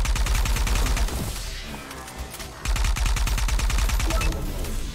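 Rapid bursts of gunfire in the cyberpunk roguelite shooter video game ArcRunner, sharp repeated shots in quick fusillades with a brief lull midway before the firing resumes, loud and close.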